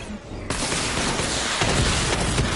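Batmobile missile barrage firing in the video game Arkham Knight, a dense, loud roar of overlapping explosive blasts that swells after a brief start and holds without a break.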